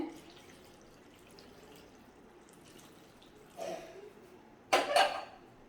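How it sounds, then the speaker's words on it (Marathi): Near-silence gives way to two short bursts of water poured into a pot of dal and spinach, the second louder and splashier. "शिजेल इतपत पाणी घालायचंय"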